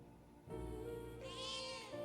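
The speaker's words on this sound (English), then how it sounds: "Meow!" A cat in Metaphor: ReFantazio gives a single clear, drawn-out meow that rises in pitch midway, heard alone and close at modest volume.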